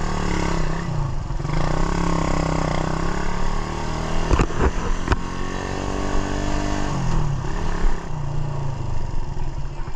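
Suzuki Raider 150 motorcycle engine misfiring after port work, running loud and close with an uneven, sputtering roar and a few sharp pops midway.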